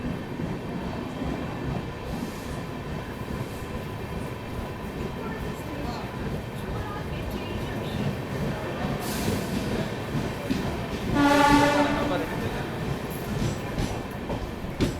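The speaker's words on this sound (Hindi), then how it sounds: "और चलिए अपनी ट्रेन जुलैरपेटाई जंक्शन में अराइवल ले रही है" The Amrit Bharat Express rolls into Jolarpettai Junction with a steady rumble and clatter of carriages, and a short horn sounds near the end, all under a constant moderate din.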